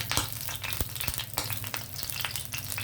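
Garlic frying in hot oil in a pan for potato and cluster bean fry, a steady dense sizzle with scattered sharp crackles and pops, close and continuous without talk.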